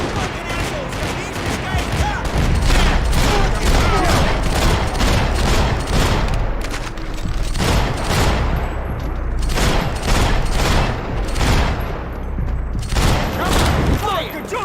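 Gunfire rattles through a Max Payne 3 firefight, with dense, loud bursts of rapid shots and booms repeating throughout and voices shouting over the shooting.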